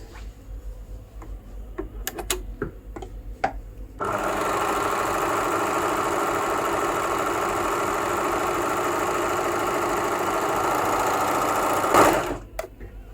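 A Babylock Victory overlocker runs steadily for about eight seconds, stitching along a fabric edge. A few soft clicks and handling taps come first, and the motor stops abruptly at the end.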